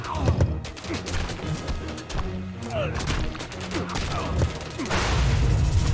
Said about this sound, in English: Argus Archers and Satyrs firing away.